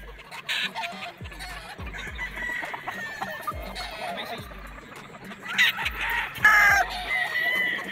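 Gamecock roosters at a game farm, including a seven-month-old Gamma Gray, clucking and crowing close by, with bursts of calls rising and falling over several seconds while someone talks alongside.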